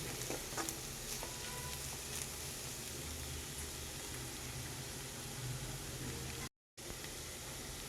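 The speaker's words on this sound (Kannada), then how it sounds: "ನೋಡಿ ಎಲ್ಲ ಎಷ್ಟು ಹದವಾಗಿ ಫ್ರೈ ಆಗ್ತಾ ಇದೆ" Vegetables frying in a pan for butter pea usli give a steady, close crackling sizzle that runs throughout, broken by a brief cut of silence near the end.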